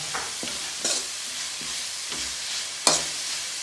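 Papaya and carrot pickle is stirred and mixed in a pan, making repeated scraping and stirring strokes with light sizzling in an irregular rhythm, close and clear, with no talking.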